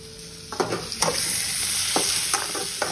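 Grated coconut fries in a pan for biryani masala, giving a continuous close sizzle broken by repeated scraping strokes of a spatula stirring it, with no voices.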